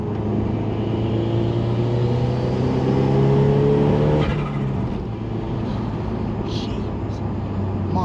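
A Stage 3 Ford Escort RS Cosworth accelerates hard, its engine note rising steadily with turbo spool building, then easing briefly as the revs shift; loud and close from inside the car.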